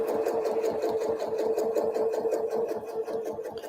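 A sewing machine stitches steadily in a rapid, even mechanical rhythm during free motion quilting with a ruler, close and loud from start to finish with no talking.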